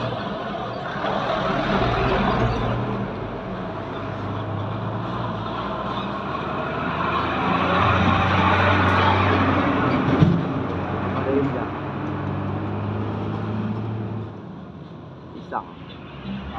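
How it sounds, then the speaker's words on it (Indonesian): A truck passes on the road, making a loud, continuous broadband rumble that lasts throughout and swells around the middle before easing off near the end. "Dihabis oleh truk ini bos."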